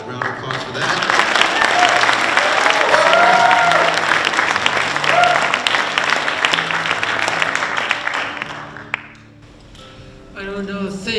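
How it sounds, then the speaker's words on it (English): An audience at a 2019 addiction-recovery event in Alaska gives a loud, sustained round of applause for about nine seconds before it fades and a voice begins. "So let's give her a round of applause for that."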